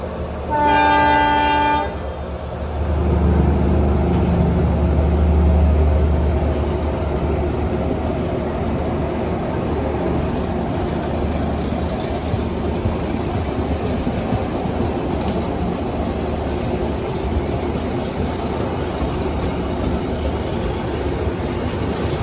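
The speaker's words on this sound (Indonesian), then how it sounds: "Ada lokomotif Puong 1396 di Pondok Bandung." A train horn sounds briefly, then a loud, steady rumble and clatter of a passing locomotive-hauled train carries on for a long stretch, in Indonesia.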